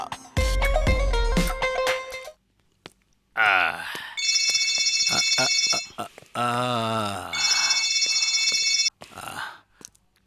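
A loud electronic phone ringtone plays in repeated bursts with short pauses between them, close and clear, with no talking over it.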